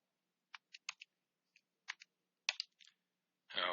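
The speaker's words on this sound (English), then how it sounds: "typing these into the calculator" Sparse, crisp key presses on a calculator while logarithms are entered for an algebra lesson: about ten short taps in uneven clusters, close and quiet, with a louder burst at the very end.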